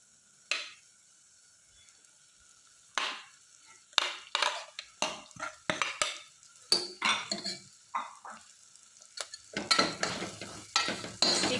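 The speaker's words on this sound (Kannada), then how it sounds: "ಕ್ಯಾಬೇಜಿನ ಚೆನ್ನಾಗಿ ಹುರಿಬೇಕು. ಈಗ ಮಸಾಲೆಯಲ್ಲೇ ಫ್ರೈ ಮಾಡ್ಕೊಬೇಕು." Shredded cabbage stirred and fried in masala paste for a cabbage kurma, with repeated scraping spatula strokes against the pan over a soft sizzle, irregular and close, growing busier toward the end.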